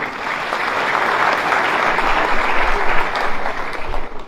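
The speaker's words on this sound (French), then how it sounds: "On l'applaudit?" An audience at a conference breaks into sustained, dense applause, many hands clapping steadily and fairly loud throughout with no voices over it.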